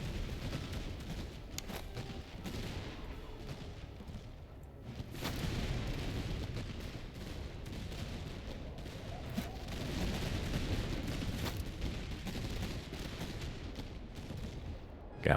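Musket volleys and artillery booms roll across a battlefield in the strategy game Master of Command, a dense, steady wash of distant gunfire with occasional louder cracks and thuds, no voices over it.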